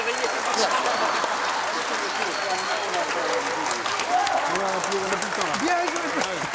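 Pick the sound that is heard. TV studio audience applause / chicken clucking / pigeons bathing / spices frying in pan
TV studio audience applause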